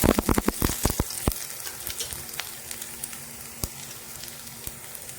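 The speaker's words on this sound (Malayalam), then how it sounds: "ഗാർലിക് ഇട്ട് കൊടുക്കാം." Garlic hits hot oil left over from frying fish, opening with a burst of crackling pops that thins to a quieter sizzle with scattered sharp spits.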